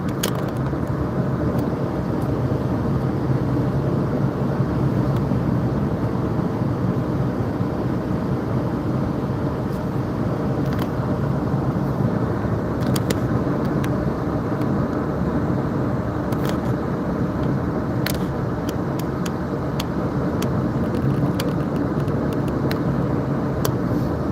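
Car driving along a highway through New Hampshire's White Mountains, a steady broadband road and engine roar with tire hum, continuous and close from inside the cabin, with occasional faint clicks and no talking.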